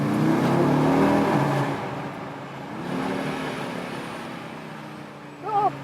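The five-cylinder engine of an Audi RS Q3 drones loudly as the SUV accelerates through a tunnel, then eases off and rises again with another rev. The sound is heard from inside the cabin, and a brief voice sound comes near the end.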